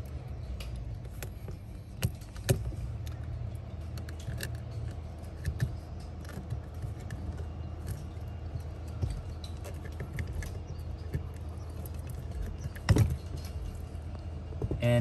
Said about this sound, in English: let me remove the brake pad for the brake over here